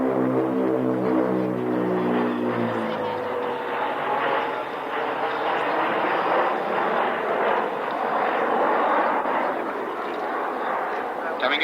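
A jet aircraft at the 1996 Fairford International Air Tattoo airshow roars loud and continuous through an aerobatic roll, opening with a steady tonal engine whine that gives way to broad rushing engine noise. An announcer talks over it.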